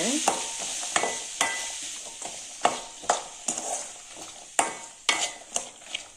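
Carrots and potatoes sauté in a pan for coconut milk rice, sizzling gently as a spoon stirs them with repeated sharp scrapes and taps about every half second, close by and without speech.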